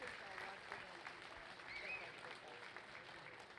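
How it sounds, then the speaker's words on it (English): Crowd applause at a junior gilt pig show arena, heard as a faint, steady patter of clapping, fairly distant, with a voice talking over it. "Let's give these guys a huge round of applause."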